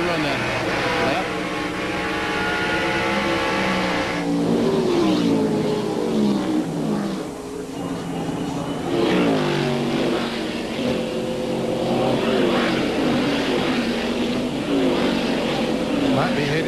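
NASCAR Winston Cup race cars at Watkins Glen road course roar past in sustained, loud engine howls that rise and fall through gear changes, under continuous commentary from broadcasters.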